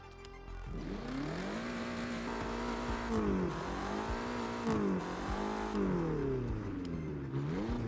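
A car engine revving in the Forza Horizon racing game with an upgraded exhaust, a sustained throaty drone that rises and falls in pitch through several rev swells, loud and steady with no talking.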